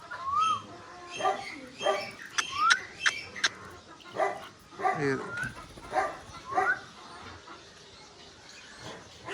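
Dogs kept near an open yard where birds are let loose bark in a string of sharp, close bursts spread through the stretch, with birds calling faintly in the background.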